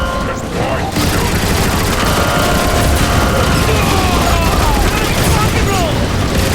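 Sustained loud gunfire and blasts in the Transformers War for Cybertron video game on PS3, a dense continuous barrage with explosive booms, with game voices in the mix.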